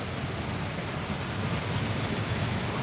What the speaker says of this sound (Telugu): ఘోరంగా వర్షం పడుతుంది కరీంనగర్లో అయితే